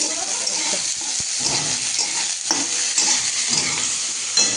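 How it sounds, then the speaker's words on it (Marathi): Onion roasting in a pan for a sprouted moth bean curry, giving a steady close sizzle and crackle with occasional stirring scrapes and clinks throughout. "हो हो कांदा भाजायचा."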